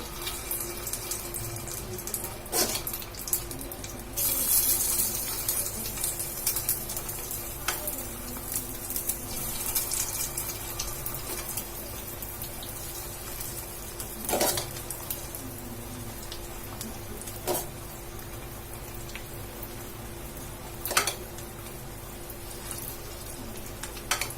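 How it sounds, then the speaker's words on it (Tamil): Spoonfuls of semiya vermicelli batter frying in oil on a pan, a steady close crackling sizzle with scattered sharp pops and clicks of a ladle throughout, no voices. "எண்ணெய் ஊத்திட்டு நம்ம ரெடி பண்ணி வச்சிருந்த இந்த சேமியா மிக்ஸை இதுல போட்டுக்கலாம்."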